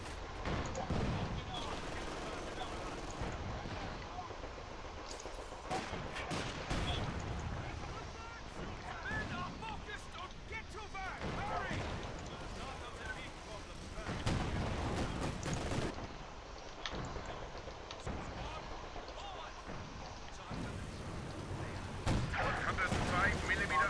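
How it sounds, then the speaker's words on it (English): Artillery barrage in Company of Heroes 2, a series of heavy booming impacts and gunfire bursts spread irregularly over a dense battlefield din, with a voice talking intermittently underneath. "artillery firing full effect"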